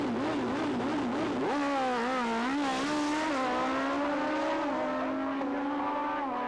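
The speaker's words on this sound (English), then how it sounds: "Listen to that turbo." A turbocharged drag racing car makes a pass at a 1986 IDBA drag race in Warner Robins, Georgia, its loud engine note climbing and shifting in pitch as it accelerates and holds a sustained roar.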